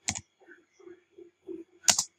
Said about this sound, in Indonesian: dengan mengetik echo